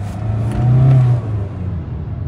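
A Kia Sonet 1.5 diesel car accelerates in first gear through city streets, its engine note swelling into a loud, close rev for about a second before easing back to a steady hum, with no talking.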